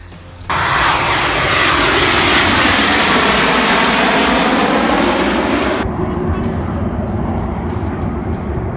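A loud Canadian Forces Snowbirds jet roars close overhead at an air show, starting suddenly and holding steady before dropping off to a fainter rumble.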